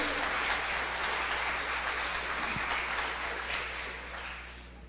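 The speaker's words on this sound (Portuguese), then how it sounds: "E por gentileza, aplauda ao Senhor Jesus bem forte" Distant, muffled congregation applause in a church after a sermon, a soft continuous patter over a low electrical hum, fading toward the end.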